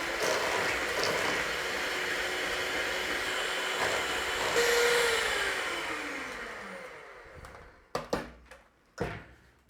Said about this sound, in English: And then we're just going to give it a mix.